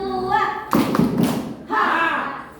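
Hands clapping in a counting clap game at a school, a few quick claps landing between spoken voices that carry through the whole short stretch.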